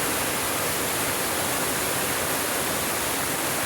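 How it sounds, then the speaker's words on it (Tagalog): Steady, loud rush of flowing water from a waterfall, a continuous broadband roar with no pauses and no voices. "Ito ang tubig no."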